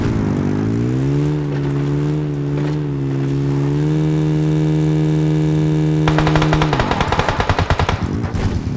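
A steady, droning ATV engine hum in the video game PUBG Mobile holds a constant pitch, then breaks into a rapid rattling burst near the end, loud and close with no voices.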